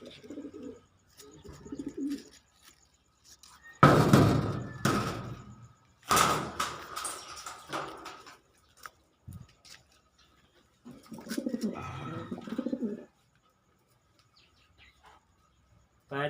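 Pigeons coo in soft, repeated low bursts from close by, with a couple of loud door-like bangs and brief flapping noises in between. The birds are doves kept at home, one named Grisel, with their eggs nearby.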